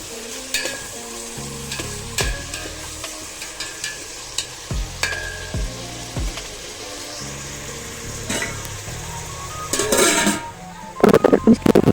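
A spoon stirs vegetable pulav with fresh coriander and mint in a pan, giving steady frying sizzle with repeated scraping and clacking strokes that turn louder and busier near the end.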